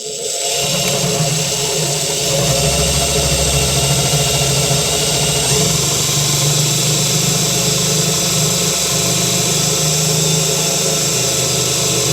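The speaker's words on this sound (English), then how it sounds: "I'll take my 5/16 drill and drill these 2 holes here" A power drill with a 5/16 bit boring holes into a 2025 Ford F350 pickup truck bed, a loud continuous motor whine with steady vibration, close and uninterrupted for over ten seconds.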